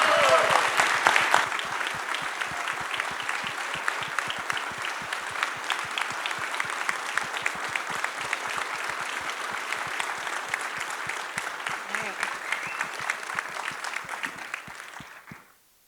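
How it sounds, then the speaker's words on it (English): Sustained audience applause at an industry association's opening remarks and town hall, honoring its first woman president; dense, steady clapping from a large crowd lasting about fifteen seconds before tapering off abruptly at the end. "Let's give her a huge round of applause."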